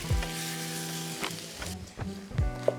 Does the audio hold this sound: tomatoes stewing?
yes